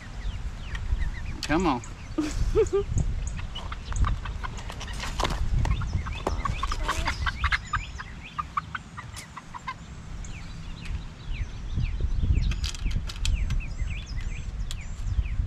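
Chickens cluck and squawk steadily while being transported, close and busy, over rumbling and shuffling, with people talking at times.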